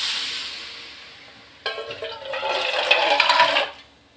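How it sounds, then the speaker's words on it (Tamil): Water pours into a pan of mango curry with a sudden hiss and splashing that lasts about two seconds, loud and close, after a quieter sizzle fades. "தண்ணி விட்டுக்கிறேன்."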